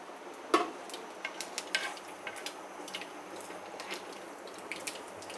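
Spices sizzle quietly in hot oil, with soft crackling pops and scattered sharp spits over a faint steady hiss.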